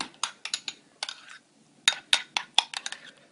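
A spoon mixes Japanese mayo aioli sauce for shawarma, a run of sharp clinks and scrapes in irregular bursts with brief pauses, close and clear.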